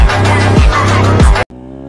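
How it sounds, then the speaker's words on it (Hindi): A loud, close Duke motorcycle engine roars steadily with rising revs, then cuts abruptly to a lower idle hum. "इसका बाइक का साउंड भी बहुत ज्यादा लाउड है गाइस"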